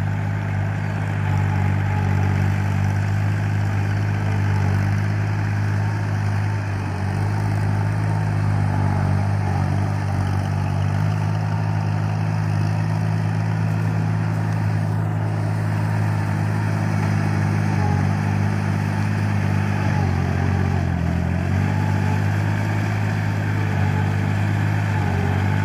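A farm tractor engine runs steadily on a Vietnamese farm, a loud continuous low drone with no pauses and no talking.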